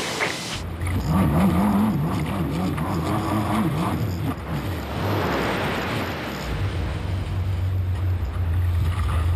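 Jet ski engine idling and revving on a bay during marker buoy pickup, a steady low drone that shifts in pitch, with wind noise across the microphone throughout.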